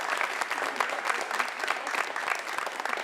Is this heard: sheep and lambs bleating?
no